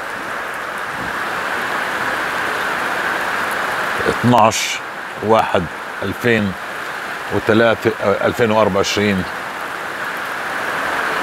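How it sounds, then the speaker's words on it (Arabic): Steady rain hiss fills the whole stretch as an even outdoor wash, with someone speaking in Arabic over it through the middle section. "صوت المطر جميل"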